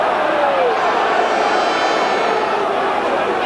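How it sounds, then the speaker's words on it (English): Rugby stadium crowd at a South Africa versus Australia Test in Cape Town, a broad sustained roar of booing that holds loud and steady throughout, with no single voices standing out. "the crowd are booing"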